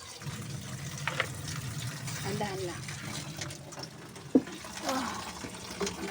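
A faucet runs steadily into a sink that is being cleaned, beside a broken, dripping pipe under the sink. The water hisses continuously, with a few splashes and clunks, while a person speaks briefly.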